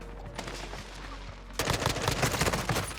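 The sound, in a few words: gunfire from the video game Call of Duty, M4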